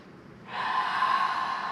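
A steady, airy breath drawn in during a barre workout stretch starts after a short pause and holds evenly, close and soft, with no talking over it.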